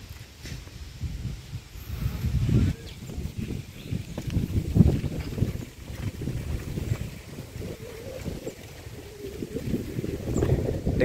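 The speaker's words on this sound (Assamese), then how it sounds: "বতাহৰ সোঁহনি শব্দটো চাগে আপোনালোকে নিশ্চয় শুনিছেই" Strong wind blows across an open grassy wetland lake, buffeting the microphone in a continuous low rumble with gusty swells throughout and no voices.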